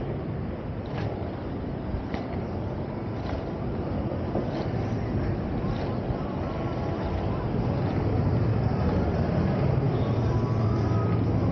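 Wind blows straight against an inline skater during an urban skate at night, a loud, constant roaring rush with close buffeting that never lets up.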